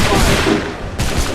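A massed volley of musket fire bursts out on a battlefield in Assassin's Creed III, a loud rolling crackle of many shots fired together, then a second sharp burst near the end.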